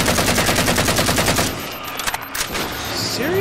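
Rapid automatic gunfire from the video game Halo 4 rattles loudly in a dense burst, then breaks off into scattered shots and game effects.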